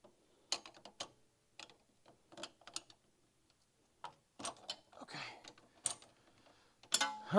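A bicycle wheel's jam nut retightened with a ratcheting tool, giving scattered bursts of quick clicking at close range, separated by short pauses.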